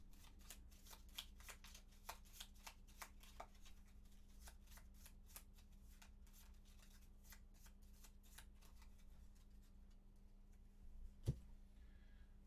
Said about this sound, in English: This was a shuffle for the archer attack.